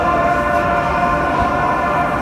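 A Pyongyang metro train at Fakel station gives off a loud, continuous electric hum with steady tonal whine layers that hold unchanged throughout, with no voices.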